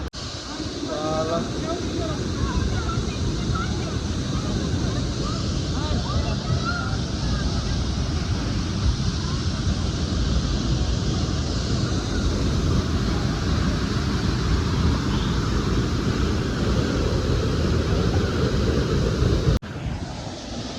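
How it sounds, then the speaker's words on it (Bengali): A waterfall near Gangtok, Sikkim, pours out a loud, steady rushing roar that runs without a break for the whole stretch, cutting off briefly just before the end. "আমি এখন আছি একটা ঝর্ণার সামনে"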